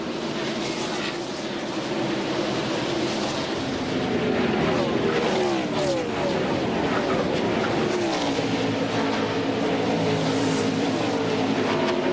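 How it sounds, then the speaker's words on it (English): NASCAR Winston Cup stock cars roar around Darlington Raceway, a dense continuous engine drone with cars sweeping past in rising and falling pitch, loud and sustained throughout the race. "Robert Presley in the 77 car there pulling underneath Ken Schrader in the 36"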